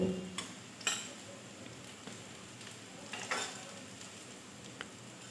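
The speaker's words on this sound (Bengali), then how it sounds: "কথা বলতে বলতে আমার ভাজা হয়ে গেল সব কাটলেটগুলো" Oats chicken cutlets frying in a pan, a steady soft sizzle with scattered clicks and light scraping taps as they are turned, fairly quiet and close with no talking.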